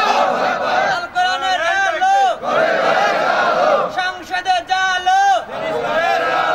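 A crowd at a Bengali Islamic sermon gathering shouts the takbir chant in unison, loud rising and falling group voices in repeated waves with brief pauses between calls.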